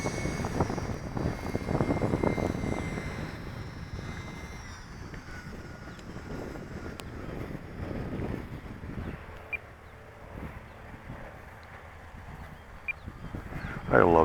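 An electric UMX Timber RC plane climbs away at full throttle, its buzzing motor whine mixed with wind noise on the microphone and fading as it gets farther away.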